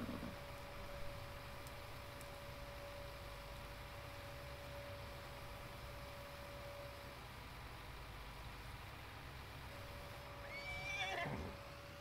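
Horses in the farming game Farming Simulator 19 neigh once near the end, a brief whinny rising over a faint steady game ambience and hum.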